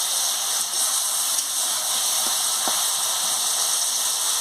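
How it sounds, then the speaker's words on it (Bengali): Ridge gourd and other chopped vegetables fry in a pan, releasing their water with a continuous, even hiss and sizzle close by. "পুরো ঝিঙে থেকে জল বেরিয়ে গেল, ওটা আমি ভালো করে ভেজে নেব"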